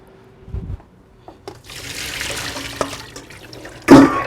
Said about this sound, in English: I'm going to dump this water down the drain.